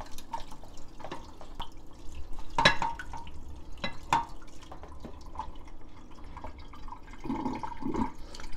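Maesaeng-i seaweed is rinsed by hand in a bowl of water, producing soft sloshing, dripping and light splashes close by, with a few louder swishes partway through.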